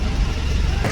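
A motor vehicle passes by on the road nearby, a close, loud engine drone holding steady for about a second.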